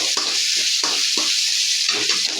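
Onions sizzle in hot oil in a pan for a river crab gravy, with a steady hiss and repeated scraping strokes of a spoon stirring at an even rhythm, close up.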